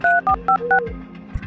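Mobile phone keypad tones as a number is dialed: four short, loud beeps in quick succession with brief gaps, followed by a fainter low tone and a soft thump at the end.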